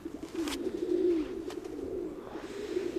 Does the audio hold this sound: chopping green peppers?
no